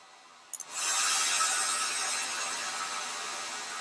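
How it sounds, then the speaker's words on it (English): A hair dryer clipped to a desk blows on wet watercolor paint in a sketchbook. A couple of quick switch clicks lead into a loud, steady airy whoosh that holds to the end with no talking. "I have a hairdryer hanging right off the side of my desk because I make wet stuff all the time."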